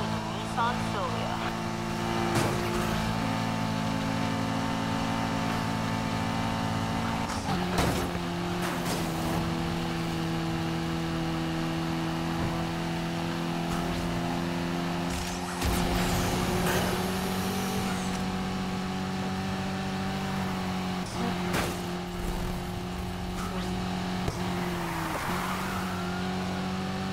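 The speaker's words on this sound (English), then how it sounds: "We've got a hotshot rolling around in a Nissan Silvia." A Nissan Silvia's engine revs and shifts during a night police pursuit in Need for Speed Heat, loud and continuous with gear changes and brief tire squeals, while voices talk over the chase.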